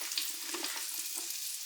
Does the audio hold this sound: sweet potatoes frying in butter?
yes